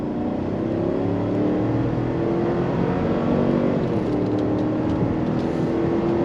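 A 2024 GMC Yukon Denali Ultimate accelerates hard on a test track, its engine a steady, loud droning roar with gear-like pitch rises, heard from inside the cabin with constant road and wind noise.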